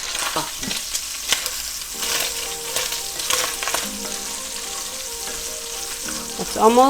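Bacon sizzles and crackles steadily in a pan, a dense close frying hiss with occasional utensil scrapes and clinks, no voices.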